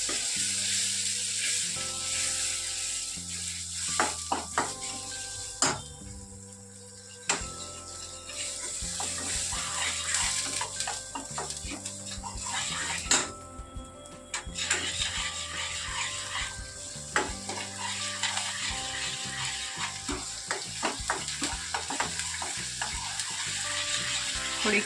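Onions frying in oil for a rajma curry, a constant sizzle with intermittent scraping and stirring clatter from a spoon against the pan, close and steady with no talk.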